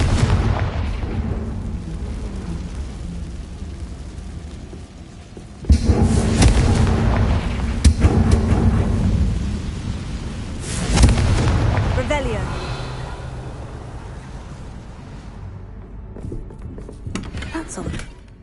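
Confringo fire-blast spells explode in the Hogwarts Legacy video game, with a few heavy booming blasts over a steady rumbling game soundscape.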